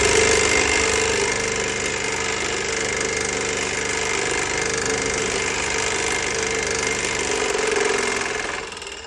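A concrete grinder runs steadily with strong, rough vibration, a loud continuous mechanical drone with rattling and knocking character throughout, fading slightly at the very end.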